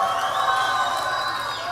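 A crowd at an Eid al-Adha festival cheers and applauds, a steady, loud wash of voices and clapping with a rising whistle-like tone carried over the top, filling the whole moment without pause.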